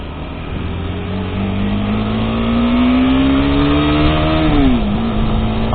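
A KTM 390 Adventure motorcycle engine climbs steadily to high RPM, a loud continuous single-cylinder drone rising in pitch before a quick shift drops it briefly, heard close and without talk.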